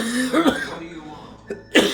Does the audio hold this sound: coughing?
yes